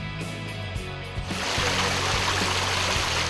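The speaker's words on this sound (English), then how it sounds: "Kabaceviz waterfall is a place close to Tekeköy." Water rushes at Kabaceviz waterfall near Tekeköy in Samsun, Turkey, a steady broadband roar that swells louder partway through and then holds, with a few faint tones underneath.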